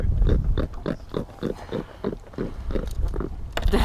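A large jack fish, freshly caught, gives a series of rhythmic, close grunts, about a dozen low pulses in quick succession, with a little movement noise around them.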